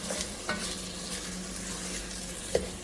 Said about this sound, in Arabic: شوفوا جمال الحمسه